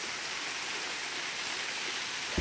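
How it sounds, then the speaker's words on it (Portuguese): The Curva Fria waterfall in São Lourenço do Oeste, Santa Catarina, Brazil, gives off a soft, even, distant rushing roar, broad and steady throughout, with no speech. "Olha a cachoeira."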